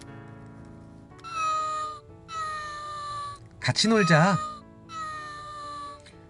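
A cat meows with a rising-falling wail amid light background music, and a voice speaks briefly between the cries.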